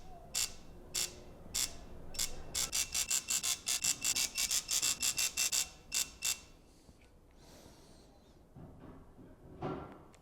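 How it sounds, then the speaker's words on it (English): Rapid, regular clicking ratchets close by as a digital torque wrench tightens the main cap bolts on a supercharged Alpina B7 engine during a rebuild, a burst of crisp ticks that slows, pauses, then trails off. "let's fire it up and torque the main cap bolts"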